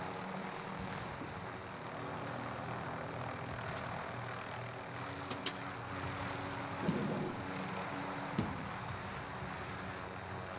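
Helicopter in Call of Duty Warzone: a steady, continuous rotor and engine drone fills the whole stretch at moderate level, with a couple of brief sharp clicks from game effects over it and no talk.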